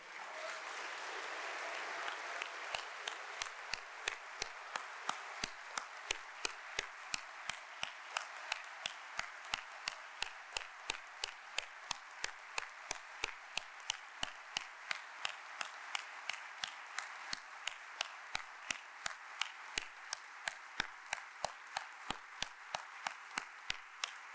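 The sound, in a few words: audience applause in a chapel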